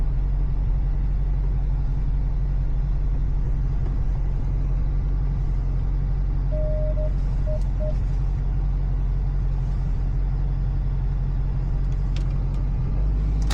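Heard from inside a moving car, the engine and road noise form a loud, steady low rumble that runs without a break, with a faint brief tone partway through and no talk.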